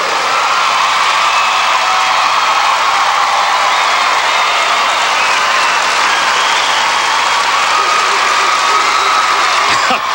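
A figure skating show crowd rises for a standing ovation, a loud continuous wall of applause and cheering that fills the arena evenly from start to finish.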